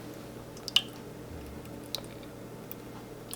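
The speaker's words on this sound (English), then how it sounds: "we're going to go ahead and put a bit of a layer of sauce on the bottom of the pan" Sauce being spooned and spread across the bottom of a lasagna pan, heard as soft wet squishes and a couple of sharp clicks of the spoon against the pan over a quiet background.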